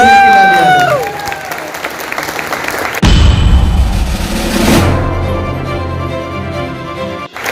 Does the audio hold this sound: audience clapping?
yes